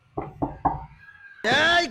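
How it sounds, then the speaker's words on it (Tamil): Knocking on a locked house door, three sharp raps in quick succession, close and loud, followed by a burst of a voice or animal-like cry. "கதவு தடி பார்ப்போம்"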